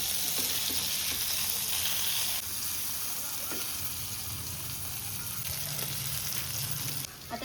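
Rava-coated Bombay duck fish fry in a pan with a constant close sizzle and crackle, broken by a few faint scrapes as the pieces are moved, and a low voice murmurs underneath.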